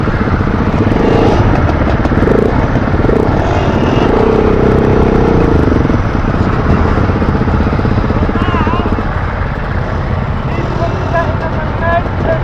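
KTM 690 motorcycle climbing a steep off-road ascent at a trail riders' skills day, its engine snarling and revving loudly throughout with rising and falling pitch, while people talk over it.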